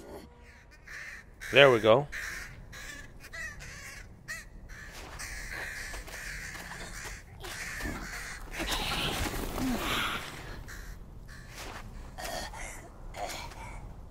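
Crows caw in The Lord of the Rings: Gollum video game, with one sharp loud croak early on and fainter bird sounds amid game ambience and a speaking voice.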